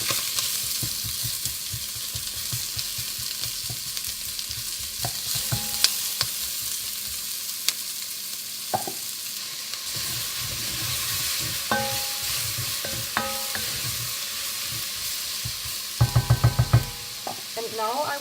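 Onions caramelizing with a little sugar sizzle in a pan over lowered heat while a utensil stirs them. A soft continuous fry sounds close, with irregular scraping strokes and a quick burst of clinks near the end.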